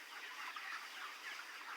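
Chickens on a farm of about 1000 birds make a dense, faint, continuous wash of clucking heard at a distance, with no distinct individual calls and no voices.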